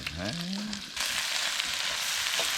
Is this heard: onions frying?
yes